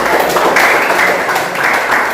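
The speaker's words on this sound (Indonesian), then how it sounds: "Oke, kita tepuk tangan untuk kelompok." A classroom of students claps together in a dense, steady burst of applause lasting a couple of seconds, close and fairly loud.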